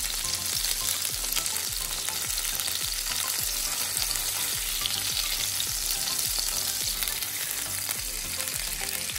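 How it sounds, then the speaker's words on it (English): Salmon fillets fry in a pan, a continuous loud sizzle overlaid with a regular rhythm of scraping and tapping from stirring or utensil contact, with no voices. "we're going to fry these for another 2 to 3 minutes"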